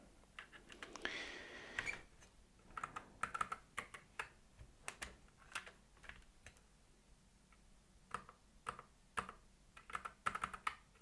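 Typing on a computer keyboard, with irregular bursts of crisp key clicks close to the microphone, some faster runs and brief pauses between them, over a quiet background and no voices.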